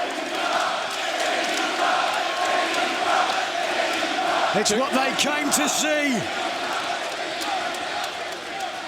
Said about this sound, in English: We're stomping here, clapping to sound like a thunderstorm.